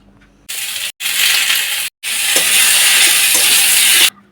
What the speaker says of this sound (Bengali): কুচনো শশাটা কড়াইয়ের মধ্যে দিয়ে ভালো করে নাড়াচাড়া করে নিয়ে 1 চামচ আদা বাটা দেব।